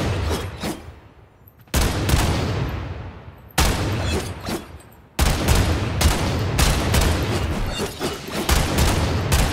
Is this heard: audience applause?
no